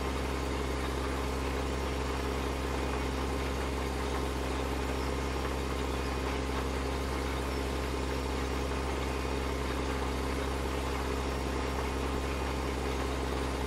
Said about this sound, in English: We got exactly 2 hours on this tractor right now.